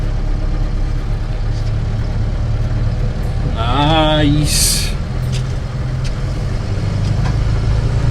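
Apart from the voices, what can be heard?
2018 Mahindra Roxor diesel engine running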